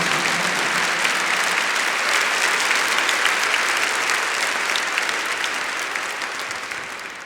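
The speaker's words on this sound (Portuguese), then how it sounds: "Give the Lord a big clap for that." A church congregation claps for the Lord during a Catholic sermon, a loud, even roar of many hands that sustains for about seven seconds and gradually tapers off at the end.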